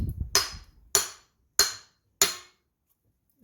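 A hammer strikes a 6.4 Powerstroke diesel turbo four times at an even, unhurried pace, each blow a sharp, loud metallic crack that rings briefly and then falls to silence.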